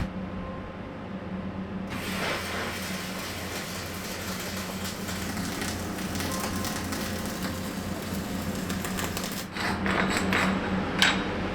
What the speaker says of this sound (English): We got that one guy in the escape tunnel finishing up the last weld right now.